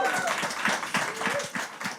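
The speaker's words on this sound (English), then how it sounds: "So let's give a round of applause to SISTRIX." A live conference crowd applauds the event's gold sponsor. Scattered, rhythmic claps come from a modest audience, with a drawn-out cheering voice rising over them.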